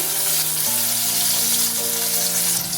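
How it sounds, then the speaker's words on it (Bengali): Small chopped tomato frying in a pan with black cumin, a steady close sizzle with bubbling and a few stirring shifts throughout, no voices. "টমেটোটা একটু ভেজে নিচ্ছি"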